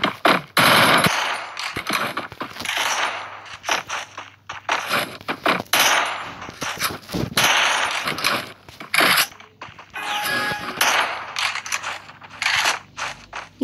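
An MP90 submachine gun fires in Free Fire clash squad play, rapid loud bursts of automatic gunfire in repeated close volleys with brief gaps, alone without talk.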